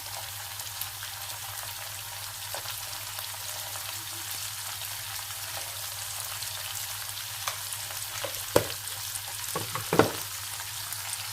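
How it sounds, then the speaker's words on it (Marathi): Chopped tomatoes with a pinch of salt sautéing in a pan for oats upma, a continuous even sizzle with a few scraping stirs near the end, close and steady. "छान परतून घेऊया. आता आपण यात चिरलेला टोमॅटो घालूया."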